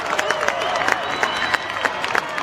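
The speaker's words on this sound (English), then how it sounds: "Give the fireworks a big cheer." A Bonfire Night crowd at Cassiobury Park fireworks cheering and clapping, a dense wash of applause with scattered distant shouts and whistles, fairly loud and steady throughout.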